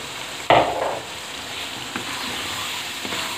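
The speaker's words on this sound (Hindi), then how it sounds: "ये खुल चुका है हमारा कीमा और इसमें अब जा रहे हैं ये आलू।" Potatoes land with a sudden loud hiss in a pan of frying keema, then a softer sizzle and the scrape of a spoon stirring, with a few quieter stirring strokes after.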